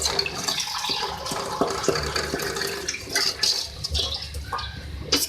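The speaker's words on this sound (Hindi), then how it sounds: "मैं इसमें ऐड करूँगी वाटर 2 गिलास।" Water poured into a pan of fried potato and cauliflower for a curry gravy gives a steady, close splashing and trickling throughout.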